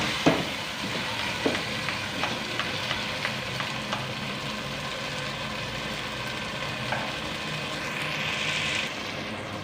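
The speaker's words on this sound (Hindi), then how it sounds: "अब मटर और आलू शामिल कर देते हैं। इनकी भी अच्छे से भुनाई कर लेते हैं 4 से 5 मिनट के लिए।" Peas and potatoes frying in a pot of spiced oil for aloo matar pilau, a steady moderate sizzle with occasional stirring clinks and scrapes near the start, continuing evenly without talk.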